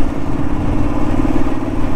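A motorcycle engine that is losing pickup runs with a loud, steady thrumming idle very close by, holding an even rhythm for the whole stretch.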